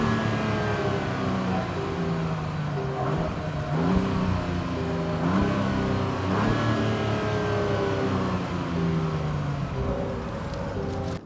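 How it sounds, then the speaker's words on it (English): A 2021 Jaguar F-Pace with dual tailpipes and 84mm chrome finishers, its engine revving and shifting through gears in a loud, steady exhaust roar with rising and falling pitch sweeps, close and continuous with no talk. "Let's take a second to enjoy that exhaust note."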